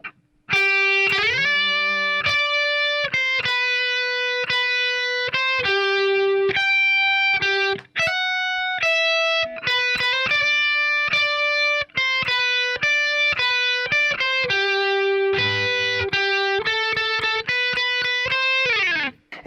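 Electric guitar with distortion slowly playing the solo from a song, a long run of clear sustained single notes and bends, loud and alone.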